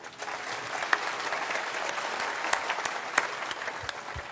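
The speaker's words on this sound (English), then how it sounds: "a round of applause for our sign translator" Audience applause for a sign language interpreter at a talk, a steady wash of clapping from a moderate-sized crowd with a few sharper claps standing out, no voices.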